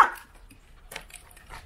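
A street dog barks outdoors, one brief bark at the start followed by a couple of fainter, more distant barks against quiet surroundings.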